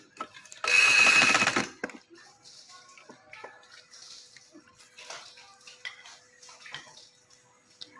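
Sewing machine stitching a frill onto a frock, heard as one loud burst of rapid stitching lasting about a second, followed by quieter handling, fabric rustle and small clicks.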